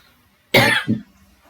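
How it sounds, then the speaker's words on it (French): A single close, loud smoker's cough, a harsh burst followed by a shorter second hack, then quiet. "le matin, je fume, je tousse"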